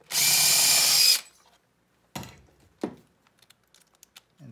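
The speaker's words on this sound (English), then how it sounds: "and then I'll pre-drill a hole" A power drill pre-drilling a hole in wood for a screw whirs in one loud burst of about a second, then a few clunks and light clicks follow in quiet surroundings.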